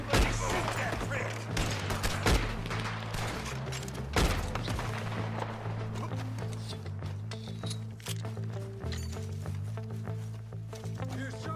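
Gunfire in Red Dead Redemption 2 crackles in sharp bursts over clip-clopping hooves and a low rumble.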